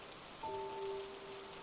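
Pelting rain as a sound effect in a scary story, a steady soft hiss of falling rain with a faint tonal whine over it, no voices.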